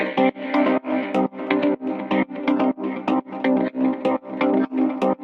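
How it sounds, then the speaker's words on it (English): Lush, synth-like harmonic stab line played on an Epiphone Les Paul guitar through effects, heard as a steady rhythmic run of about a dozen short, bright chordal stabs with chorus-like shimmer, loud and alone. "let's look at how to make this lush harmonic stab line."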